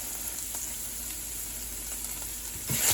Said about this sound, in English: You want to make sure and keep your sausage crumbled. So make sure and crumble it up,